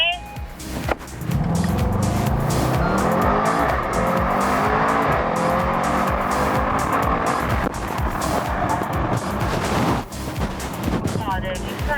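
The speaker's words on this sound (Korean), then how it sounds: "드래그 레이스 하는 거 처음에 그냥 풀 가속 하는 거 그냥 풀악셀" A Mercedes-AMG car at full throttle in a drag race, its engine note climbing loudly and steadily through several gear changes with tyre noise, while people talk over it.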